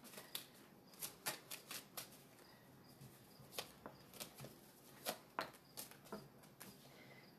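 Angel Romance oracle cards are shuffled by hand in quick irregular bursts of papery riffling and slapping, close and soft, with short pauses between flurries and no speech.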